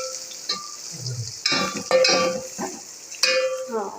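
Onion and garlic fry in a pan while kadhi is cooked on a rainy day. A soft sizzle sits under bursts of stirring and scraping, with a few tonal clinks mixed in, close by.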